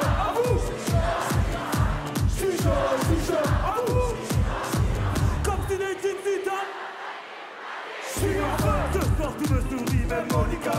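A crowd at a Paléo 2025 festival concert chants and shouts in a loud, rhythmic pulse over pounding beats. The sound drops out briefly about two-thirds through, then the crowd noise surges back.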